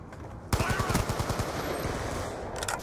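Rapid automatic gunfire from a Black Ops 2 Hardpoint match bursts in loud and close after a brief lull, a fast rattling string of shots that trails into sustained battle noise.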